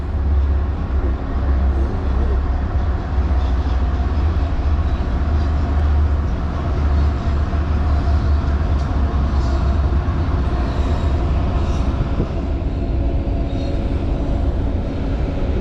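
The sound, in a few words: train passing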